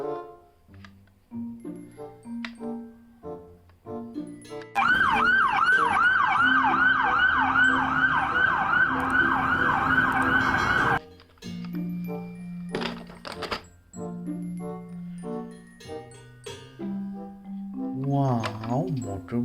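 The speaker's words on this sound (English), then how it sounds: "Police car." A police car siren wails loudly in a rapid, rising-and-falling pattern for several seconds, starting abruptly and cutting off, set among a child's toy vehicle play with excited talk and exclamations before and after.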